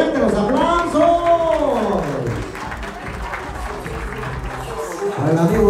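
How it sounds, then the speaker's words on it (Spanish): Guests at a quinceañera applaud the bracelet godfather Gabino Guzmán, steady clapping from a crowd that stays mixed with music and voices throughout. "A continuación también pido un fuerte aplauso para Gabino Guzmán, padrino de esclava."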